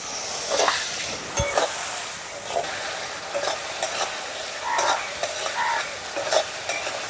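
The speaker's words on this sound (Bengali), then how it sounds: "এখন সামান্য একটু জল দিয়ে মশলাটাকে কষিয়ে নেব" A spatula works a spice paste of turmeric powder and salt with a little water in a pan for a village-style chicken liver and gizzard dish, giving a continuous sizzle with repeated scraping strokes and occasional clinks of metal.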